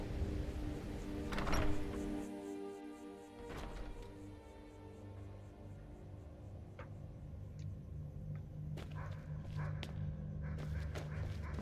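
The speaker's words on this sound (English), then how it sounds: "I hear a dog barking, too." A dog barks a few times in Skyrim, short sharp yelps at about 1.5 and 3.5 seconds over a low steady game ambience and rumble, with later thumps and clicks.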